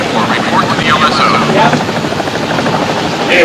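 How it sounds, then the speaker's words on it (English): Helicopters landing on an aircraft carrier flight deck, a loud constant rotor drone and engine roar filling the whole stretch, with no clear talk above it. "All helos in starboard delta so we clear them for landing"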